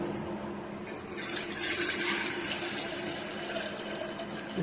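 Water pours into a pressure cooker for soaked black kavuni rice, a steady splashing stream that runs the whole time, close and fairly loud, with no talk.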